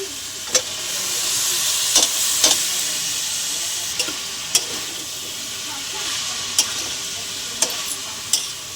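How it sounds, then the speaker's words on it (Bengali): Cabbage and potatoes fry in oil with yogurt and spices in a pan, a steady close sizzle and hiss broken by periodic scraping knocks of a spoon stirring. "এবারে বাঁধাকপি আর আলু দিয়ে দেবো।"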